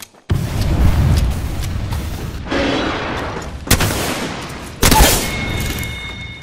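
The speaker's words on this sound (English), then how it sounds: "They spotted me. I'm taking shots." Gunfire in the video game Apex Legends, with sustained bursts of loud shots and several sharp, heavier reports standing out over continuous battle noise, close and intense.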